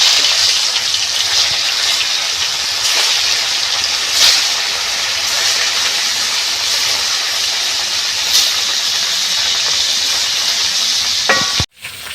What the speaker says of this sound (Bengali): এই মাছগুলো এবার ভেজে নেব